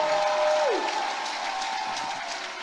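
Congregation applause and acclamation fill a church service, a steady dense clapping wash with crowd noise that holds loud and continuous throughout.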